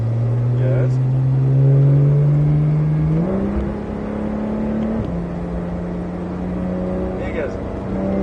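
Porsche 911 GT3 (991 generation) accelerating on Circuit Ladoux, its engine note climbing steadily through the revs, dropping briefly at a gearshift and then rising again, loud and close from inside the car.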